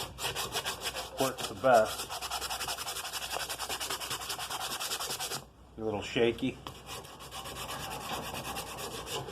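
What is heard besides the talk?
sanding rusty metal by hand with sandpaper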